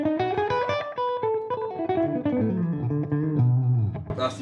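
Electric guitar run through an MXR Carbon Copy analog delay pedal set for short slapback, a sustained melodic phrase with bright harmonic notes and a quick echo trailing each note, played alone.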